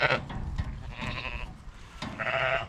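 Sheep and lambs bleat on a farm, with several close, loud calls in short bursts around a handful of moments, over low rustling and movement.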